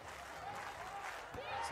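Crowd at a beach volleyball gold-medal match in Saquarema, 2023, applauding and cheering steadily throughout, a broad sustained wash of clapping and voices at moderate level with no distinct speech.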